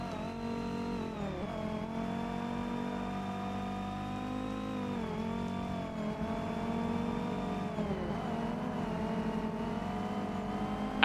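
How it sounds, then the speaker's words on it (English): Race car engine in Forza Motorsport during an R-GT class race, a steady loud drone that holds a near-constant pitch with small dips and rises as the car shifts and accelerates, with no talk over it. "And there's the engine noises."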